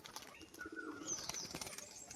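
Pigeons kept for sale as tumbler-type fancy birds, heard as soft coos, chirps and a brief flutter of wings, fairly quiet and close, with faint background noise throughout.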